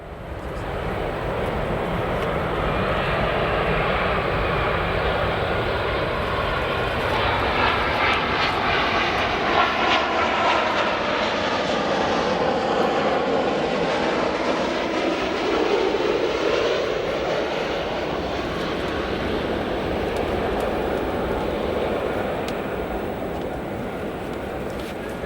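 A Boeing 787 airliner arriving at O'Hare Airport gives a loud, steady engine roar that swells and sweeps past, then slowly fades, with no one talking.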